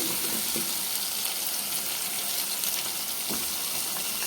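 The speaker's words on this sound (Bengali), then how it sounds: "নেড়ে ছেড়ে পেঁয়াজগুলো একটু ধরার জন্য বেক করব।" Onions fry in a pan for beef curry with a dense, steady sizzle and crackle, close by, as a few brief spatula scrapes break through the hiss. No one speaks.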